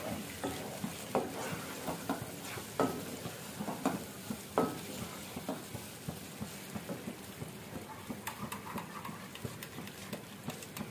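Mutton sizzling and frying in a pan while being stirred, a soft continuous crackle broken by repeated scraping and clacking strokes of the spoon, fairly quiet and close.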